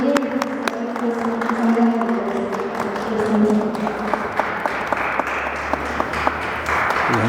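An audience claps after a history talk, steady applause with a few sharper individual claps standing out, while people murmur and talk over it.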